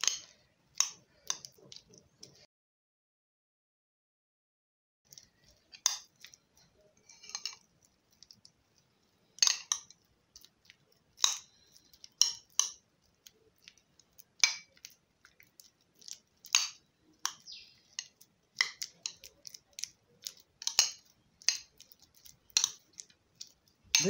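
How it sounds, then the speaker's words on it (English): Banana being mixed with Vaseline for a facial mask: faint, scattered sticky clicks and taps of a utensil in a small bowl, irregular and intermittent, with a silent pause near the start. "I have to mix the banana with the Vaseline."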